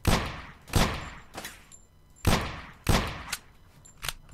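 Bandits fire guns in the survival driving video game Drive 4 Survival: several sharp bursts of gunfire crack out at irregular intervals, loud and punchy, with quieter gaps between the volleys.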